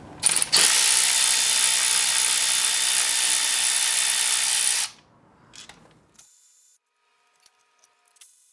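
A ratchet spins out clutch cover screws on a Kawasaki KX250 dirt bike, a loud, dense buzzing clatter lasting several seconds up close, then stopping, followed by a few faint clicks and taps.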